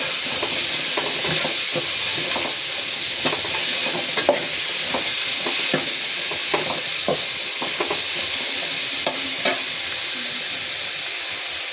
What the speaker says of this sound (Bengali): চুলাটা বাড়িয়ে দিলাম, নাড়াচাড়া করে নিব।